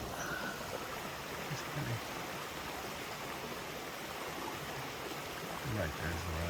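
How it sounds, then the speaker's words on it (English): A stream runs beside a Georgia hiking trail, a steady broadband rush of flowing water heard close by with no break. Faint other sounds come and go beneath it. "Hear the water running."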